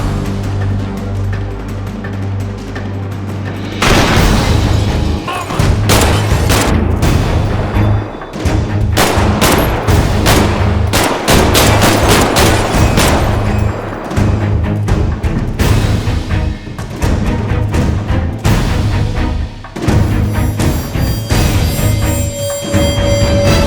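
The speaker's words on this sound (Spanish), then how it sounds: "Franklin fue rápido y pudo salvarse de la ráfaga de disparos del payaso, pero Trevor y el motero no pudieron." Loud, dense bursts of rapid gunfire and heavy booms in the video game GTA 5 over a rumbling background, with brief lulls between volleys.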